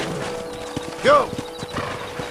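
Horses in the Red Dead Redemption video game: rhythmic hoofbeats clopping close by, then a loud whinny rising briefly in the middle, with a voice talking faintly underneath.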